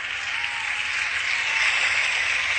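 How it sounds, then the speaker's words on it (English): Dense, steady applause from a crowd at an award event, a continuous wash of clapping at even loudness with no voices on top throughout. "You can stop the applause now."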